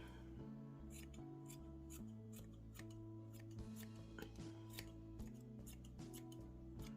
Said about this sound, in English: Just cut as much as you can just to sort of round it off.